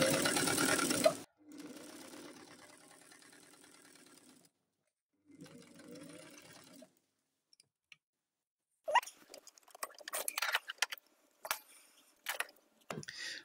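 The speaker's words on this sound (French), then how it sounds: "On va faire une petite couture avant-arrière." A sewing machine runs in several bursts as it stitches a back-and-forth seam on a small fabric wipes bag, a steady mechanical whirring that stops and restarts, followed by clicks and handling noises.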